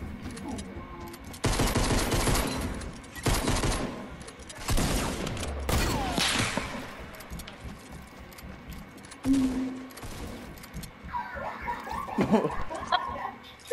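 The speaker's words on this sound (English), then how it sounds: "I shot somebody and killed them." Bursts of gunfire in the video game Fortnite, loud rapid volleys and single shots at close range, interspersed with laughter and voices.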